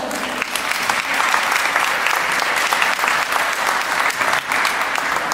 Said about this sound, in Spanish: Lo recibimos con un aplauso, por favor.